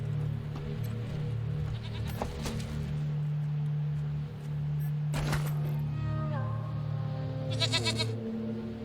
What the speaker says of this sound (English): Ooh, free mountain goat.